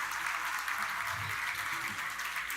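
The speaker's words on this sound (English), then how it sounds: "So a huge round of applause to all of them" Audience at a siyum celebration applauding, a dense, even wash of many hands clapping at a moderate distance, continuous and without speech over it.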